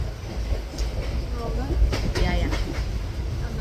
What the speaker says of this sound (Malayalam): ഇത് നമ്മളുടെ കണ്ണൂർ ഇൻ്റർസിറ്റി എക്സ്പ്രസ് ആണ്